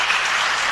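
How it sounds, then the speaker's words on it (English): A brief burst of loud, dense applause from the audience at a city council and housing authority meeting, a steady wash of many hands clapping with no voices on top. "Big round of applause for all the recipients."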